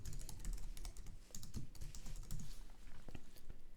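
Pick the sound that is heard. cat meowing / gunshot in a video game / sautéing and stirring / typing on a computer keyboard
typing on a computer keyboard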